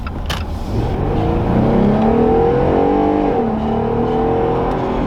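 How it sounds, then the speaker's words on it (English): An old Jeep engine revs and strains steadily close to the mic, a rough wavering drone that rises and falls without settling, sounding like it is dying. "you guys gotta hear this Jeep that sounds like it's dying"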